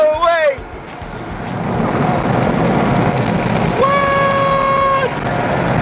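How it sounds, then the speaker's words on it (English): Car wash blowers dry a Jeep from inside the vehicle: a loud, rushing roar of air builds and then holds steady, and a voice speaks briefly over it. "Here comes the blowers. Oh, hopefully we don't blow away."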